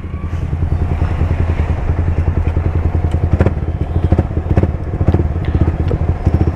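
Loud Yamaha R15M motorcycle engine idles and revs nearby with a rapid, throbbing pulse and crackling exhaust, steady and prominent with no talking over it.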